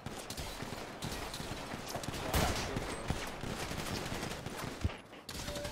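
Video game gunfire crackles in scattered bursts of sharp shots over a dense, busy game soundscape, with one louder report standing out midway.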